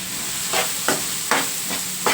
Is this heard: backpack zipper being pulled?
no